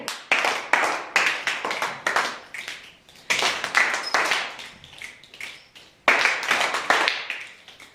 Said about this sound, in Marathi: तुमच्यासाठी टक्क टाळी